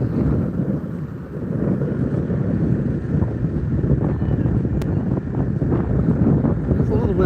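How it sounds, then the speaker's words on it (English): Wind gusts across the microphone on a Cleveland boat tour, a steady low rumble with the drone of the moving vessel and water beneath it, continuous and fairly loud throughout. "There's a little wind today."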